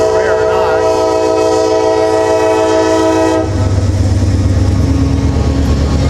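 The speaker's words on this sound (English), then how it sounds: "He's running with one locomotive today." A freight train led by a single locomotive passes close by, its horn blaring with steady harmonic tones for about three seconds before giving way to loud rumbling and rattling of rolling wheels and cars.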